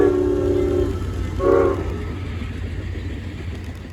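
Amtrak train 59, led by the 50th anniversary locomotive, passes through snow with a loud, close horn blast at the start, a second short blast, then a rumbling roll of cars.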